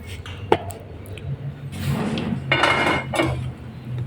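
Pork adobo being stirred in a pot with pepper and lemongrass added, a sharp utensil knock on the pot followed by scraping and clattering against metal, with sizzling bursts from the pan.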